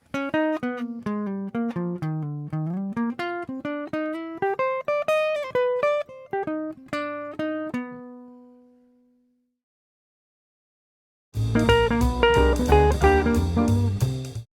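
Solo jazz guitar phrase from a line over a song, a flowing run of single clean notes ending on a held ringing tone, then a sudden denser passage of chords after a short silence, close and alone.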